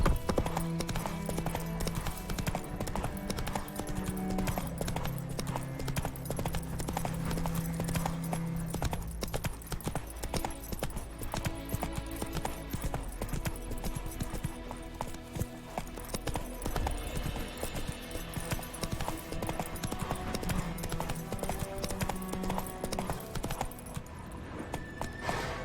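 Hooves of the horse Roach in The Witcher 3 clip-clop steadily and close throughout, set over a continuous bed of game music and ambience, with an occasional snort or whinny and no talk.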